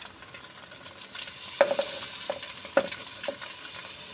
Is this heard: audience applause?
no